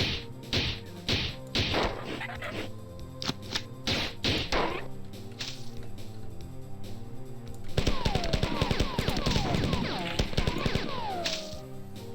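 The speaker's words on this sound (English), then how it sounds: "We can use our assault rifle a lot." Rapid automatic bursts of assault rifle fire in the Bungie shooter Marathon, loud and close, with dense impact cracks and thuds, first in short volleys and then in a sustained stream.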